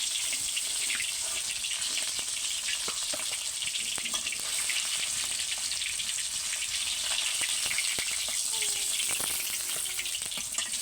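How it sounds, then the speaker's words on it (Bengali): Fish fry in hot oil with a constant, dense sizzle that holds at an even level throughout, with no one talking. "তো এইভাবে সবগুলো মাছ আমি ভেজে নিব"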